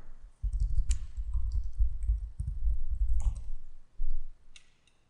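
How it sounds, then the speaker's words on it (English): Computer mouse buttons click several times in a row, crisp and close, over a low steady background rumble during screen work in an image editor. "I'm going to click on this tool and click on here"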